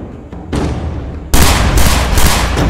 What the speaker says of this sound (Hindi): तभी ताबड़तोड़ गोलियां चलने लगती हैं।